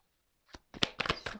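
Tarot cards being shuffled and drawn during a card reading: a faint soft flick, then a quick run of crisp papery riffles and snaps, close and quiet, with no talk.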